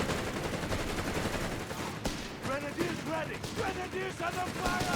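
MG42 machine gun fire in the Company of Heroes 3 battle game, with dense overlapping bursts and explosions under a casting commentator's voice throughout.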